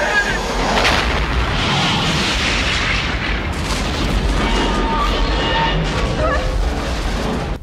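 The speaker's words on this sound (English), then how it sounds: "and then the explosion happens and he dies" An explosion from the film Solar Crisis roars as a sustained, loud, dense rumble of booming and crackling blasts lasting several seconds with no pauses.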